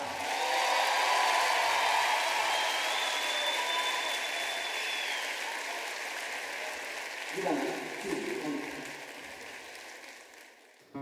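A large concert hall audience at a Sava Centar concert breaks into sustained, loud applause that slowly fades, with a voice briefly audible near the end.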